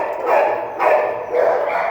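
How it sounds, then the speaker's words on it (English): A dog at a county animal shelter gives three quick, loud barks, evenly spaced and close by, with no talk over them. "She is a very happy dog."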